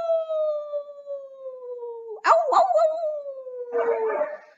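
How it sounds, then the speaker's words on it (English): A beagle lets out a long, drawn-out howl that slowly falls in pitch, broken briefly by a sharp pop and a second burst near the end. "Ollie the beagle howled"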